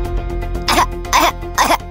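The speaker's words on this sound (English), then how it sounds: "But a zombie can't cough." Three harsh coughs from a zombie character in the Roblox game Brookhaven, spaced evenly over a steady background game soundtrack, loud and close.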